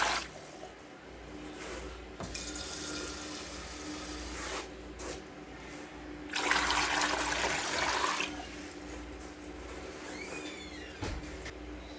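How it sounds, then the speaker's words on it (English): Water runs from a tap into a roaster pan for beef bone broth, a hissing, splashing stream that starts, stops and restarts in several bursts amid faint kitchen clatter, with no talking. "Start filling it up with water."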